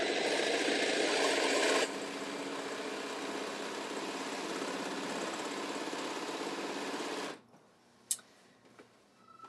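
A sewing machine runs at high speed in a steady, close whir for several seconds, then stops abruptly, leaving a quiet room with a couple of small clicks.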